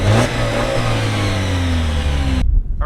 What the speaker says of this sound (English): we're going to give you a couple little revs so you get a little bit of an idea what the engine noise is